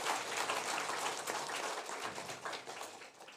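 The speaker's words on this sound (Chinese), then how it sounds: "也为自己热热的掌声一下吧" Graduates at a graduation ceremony of a religious academy applaud in a soft, sustained patter of clapping that sounds distant and fades slightly toward the end.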